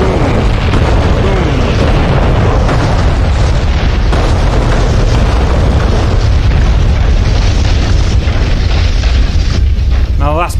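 Bombs dropped from an AV-8B Harrier exploding in the combat flight simulator DCS World, a loud, dense, continuous rumble of booms and blasts with a voice speaking over it.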